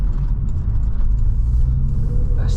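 A 2013 Porsche 911 Carrera S Cabriolet rolls onto a freeway, heard from inside as a constant low engine and road rumble with light wind noise, fairly loud and unbroken.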